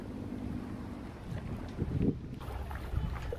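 Low rumbling drone of a large Binh Dinh fishing boat engine with wind buffeting the microphone, the engine swelling slightly as it picks up speed.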